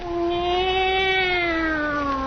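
A single long, drawn-out tomcat meow with a clear tonal wail that slowly falls in pitch, loud and close, with no other sounds.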